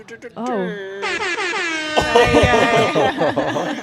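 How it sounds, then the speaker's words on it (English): A loud air horn blares in bursts with wavering tones, continuing as people laugh and talk over it nearby. "You don't have a air horn"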